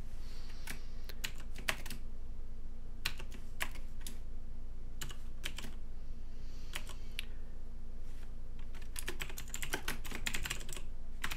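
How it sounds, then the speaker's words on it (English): Typing on a computer keyboard, close sharp key clicks in irregular quick bursts with short pauses between runs, over a faint steady hum and no talking. "just gonna type in the URL of the image I have at Clever Techie"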